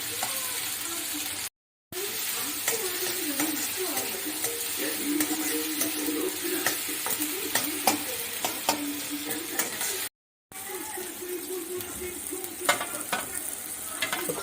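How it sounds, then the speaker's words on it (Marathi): Chopped onion sizzles steadily in a hot pan while a spoon stirs it, scraping now and then during the cooking of a Malvani-style clam curry. The frying is close and continuous, with two brief gaps of silence. "कांदा गुलाबी होईपर्यंत ढवळत राहायचा चांगला."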